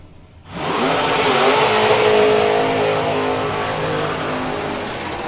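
Two 8-second drag racing cars launch down the strip at Dragstalgia 2019, a sudden loud engine roar bursting in after brief quiet and holding strong as they pull away, slowly fading toward the end.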